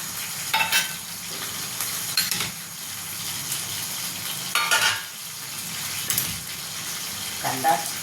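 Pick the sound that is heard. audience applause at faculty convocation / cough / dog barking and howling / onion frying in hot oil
onion frying in hot oil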